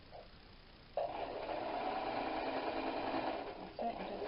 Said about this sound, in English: follow the 5/8 inch mark to form the seam